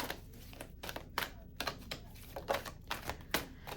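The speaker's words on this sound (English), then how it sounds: "we're going to go ahead and pull our oracle cards now" Oracle cards being shuffled for a reading, heard as a run of crisp, papery riffling bursts about every half second, close and fairly quiet, with no talking.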